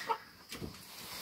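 Young hens make a couple of soft, brief clucks, faint and close, with a short high chirp at the start.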